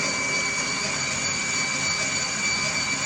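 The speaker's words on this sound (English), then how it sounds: "This unit sounds really, really good" A KitchenAid KSM55 stand mixer runs with a steady, smooth motor whir, loud and close, holding even throughout with no talk over it.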